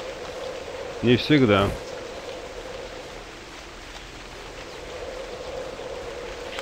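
Rain falling in the Novus Inceptio game, a steady hiss of drops throughout, with a brief spoken phrase near the start.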